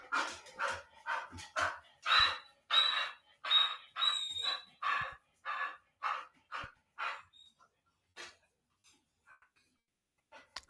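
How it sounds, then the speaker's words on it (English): A dog pants nearby in a quick, rhythmic run of breathy puffs. The puffs are moderately loud at first, then thin out and fade toward the end. "That's a good dog if I ever heard one."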